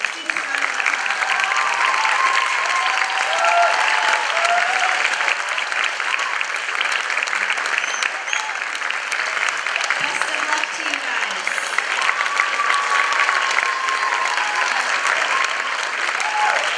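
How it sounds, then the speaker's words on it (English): Sustained audience applause for students at an elementary school Festival of Lights concert in a theater, steady dense clapping throughout with some crowd murmur underneath. "Let's give these students a round of applause."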